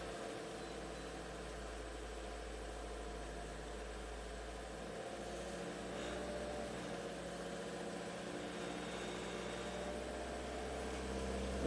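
Ford EcoBoost van engine running, with the RPM raised slightly; a steady, low, droning hum that rises faintly in level partway through, with no sharp rev.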